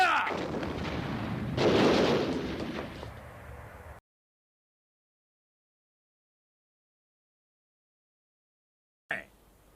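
A firing squad in a movie fires a loud, booming volley that rolls on for a few seconds and then cuts to silence, with a brief sharp burst returning at the very end.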